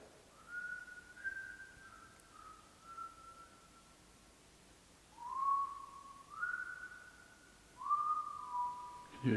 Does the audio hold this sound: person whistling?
yes